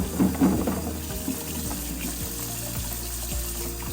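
Ninja Slushy machine parts being washed in soapy water under a running tap, a steady close splash and hiss with faint clinks of plastic pieces, no talking.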